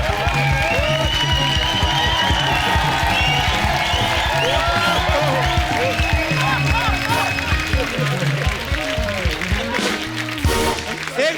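A studio audience at a Hindi comedy show breaks into loud, dense applause with some cheering that holds strongly for over ten seconds while voices and music carry on underneath.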